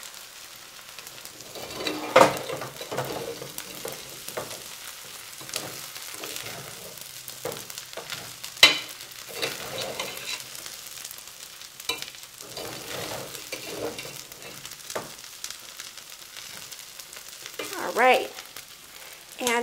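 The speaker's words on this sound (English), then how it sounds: "now you're going to fluff it up and mix it all in" Food sizzling and frying in a pan while it is stirred and mixed for Thai soup, with steady crackle and scraping strokes throughout and brief talk over it.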